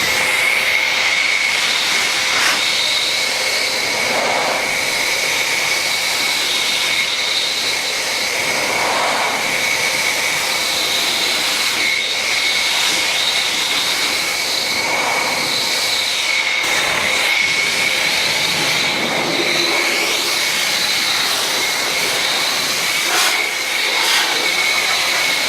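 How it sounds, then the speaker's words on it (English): A Bruhl MD2800 Pro car dryer blasts air to clear leftover rinse water from a vehicle outdoors, a steady loud roaring whine that holds throughout with small surges as the nozzle moves. "we will use the Bruhl to dry off what is left on the vehicle."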